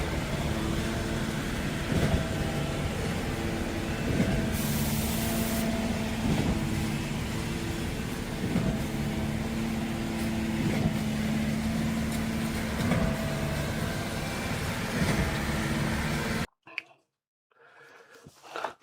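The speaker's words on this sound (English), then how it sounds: "that between the concrete truck and the pumper, that was super loud" A concrete truck and a concrete pump truck run together while pumping pea gravel concrete at a home build site. Their loud, steady engine and pump drone carries on without a break, with rhythmic pulses, then cuts out abruptly near the end.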